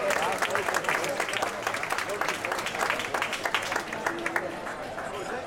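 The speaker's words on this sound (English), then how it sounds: "Let's give him a nice big round of applause" Audience on a cruise ship applauding to welcome the captain, a dense steady patter of many hands clapping at moderate volume that carries on for several seconds, with a faint voice under it.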